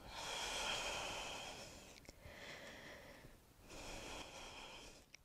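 Deep, slow yoga breaths during a vinyasa flow held in Parshvottanasana, each long airy inhale or exhale close to the mic, a couple of breaths separated by brief pauses, with no talking.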